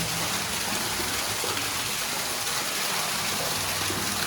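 Water gushing forcefully from a well pipe driven by air pressure, a steady, dense broadband rush that holds at constant loudness throughout with no pauses or talk.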